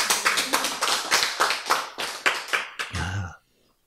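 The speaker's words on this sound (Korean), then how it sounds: "이거 박수 한번 쳐야지." An audience at a Korean religious lecture on law and love claps together in a dense burst of about three seconds, loud and near, with one voice briefly rising near the end before the applause stops abruptly.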